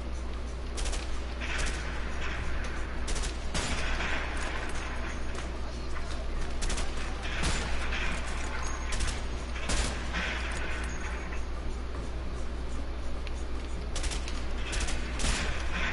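In the co-op video game A Way Out, sharp gunshots ring out in scattered bursts and single cracks over a low steady game ambience, some close and loud and others fainter.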